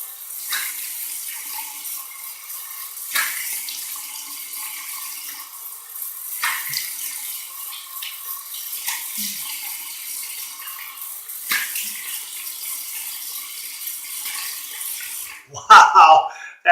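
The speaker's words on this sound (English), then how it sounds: "cold water rinse, and the water is probably going to be very cold coming out of the pipes this morning" Cold water runs steadily from a tap for a morning rinse, an even hiss with faint splashing, ending in a few louder clatters at the close.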